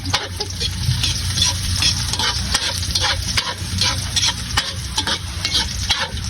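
Ginger and garlic frying in a pan give a loud, continuous sizzle, with frequent stirring scrapes and small crackles breaking in throughout and no talking.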